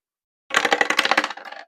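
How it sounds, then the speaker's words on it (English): A six-sided die clatters and bounces across a hard surface in a quick rattling burst of small impacts, loud and close, fading after about a second. "we are going to roll a D6 for this"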